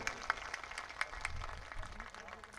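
Scattered applause from an audience at a community honouring ceremony for students, with sparse clapping bursts over a low room murmur.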